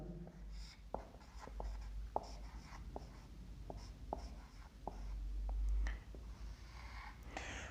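Marker or chalk strokes on a board as a physics teacher writes, a steady series of short taps and scratches over several seconds, fairly faint and close with a low background hum and no speech.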